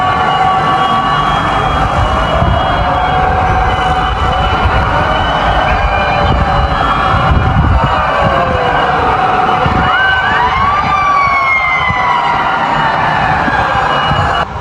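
Fire truck sirens sound during a firefighters' parade in a Philippine street, several wailing tones rising and falling over steady loud traffic and crowd noise, continuous throughout with no talk.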